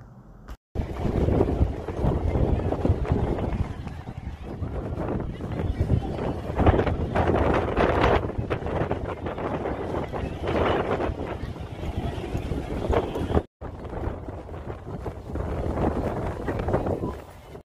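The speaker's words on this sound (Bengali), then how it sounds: "আবহাওয়ার অবস্থা দেখি প্রচণ্ড বাতাসের গতি আরও বেড়ে গেছে।" Strong wind buffets the microphone at an ocean beach on Long Island, New York, a continuous loud roar with gusty surges and brief dropouts, broad rumbling noise filling the scene.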